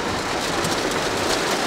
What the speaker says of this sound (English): I didn't know it was about to rain.